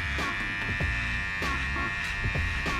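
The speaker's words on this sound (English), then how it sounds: "So now we're gonna use our cordless Wahl detailer LI to get the hair nice and tight" Cordless Wahl Detailer Li trimmer cutting hair close to the skin during a haircut, a steady close electric buzz with bursts of crisp clipping as the blade passes through the hair.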